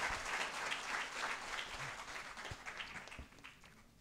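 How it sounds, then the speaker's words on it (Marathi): An audience claps loudly and steadily at a literary award ceremony, the applause gradually thinning toward the end. "जोरात टाळ्या वाजल्या पाहिजे"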